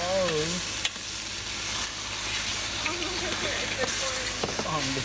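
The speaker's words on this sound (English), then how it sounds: "This is boiling already." Classico Family Favorites Traditional pasta sauce, two bottles, bubbles and sizzles in a hot pan, a steady close hiss with stirring clicks while a voice talks over it.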